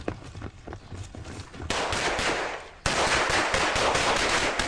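Rapid bursts of gunfire crack out during a raid with a frame charge breach, a team engaging targets; dense overlapping shots build into a loud, sustained fusillade after quieter scattered bursts.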